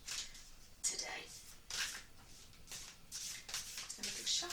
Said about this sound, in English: Just going to big shuffle.